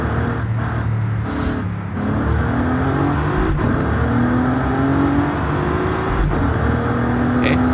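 2021 Bentley Flying Spur tuned to 1750 hp in Forza Horizon 5, engine roaring steadily as it accelerates through gear changes, a continuous loud drone with rising pitch, no speech over it.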